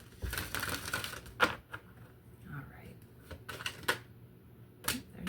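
Tarot cards shuffled by hand in short riffling bursts and soft slaps, spaced irregularly, close and fairly quiet, with a low hum underneath.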